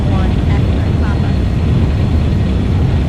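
Steady, loud airplane engine roar during takeoff at less than full throttle in a flight simulator game, with a continuous low rumble and no pauses throughout.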